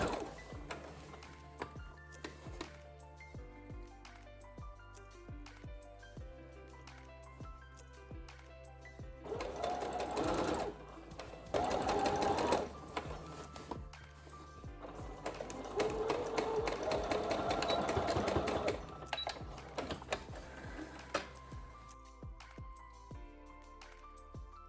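Sewing machine stitching bias tape onto a blouse armhole, a steady mechanical hum and needle clatter in several runs of varying length, growing louder in the middle stretches, with light handling noises between runs.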